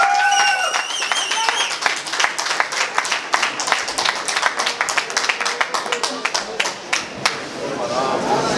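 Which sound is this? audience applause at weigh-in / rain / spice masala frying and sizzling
audience applause at weigh-in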